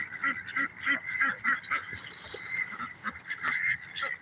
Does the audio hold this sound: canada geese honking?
yes